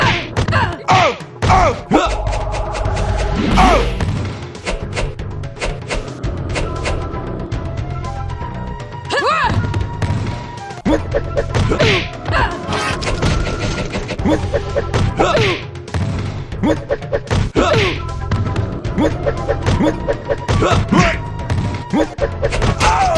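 Punches, kicks and impact thuds from Mortal Kombat II fighting with Shang Tsung, landing in rapid irregular bursts over game music, with grunts and occasional loud crashes throughout.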